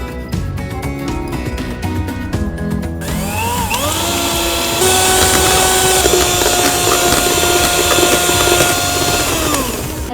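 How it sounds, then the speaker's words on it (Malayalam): An electric hand mixer whips fresh cream for a chocolate cake, a steady loud motor whine that rises in pitch partway through and runs continuously, preceded by a few brief clinks. "നമുക്ക് ക്രീം ഒന്ന് ബീറ്റ് ചെയ്യാം"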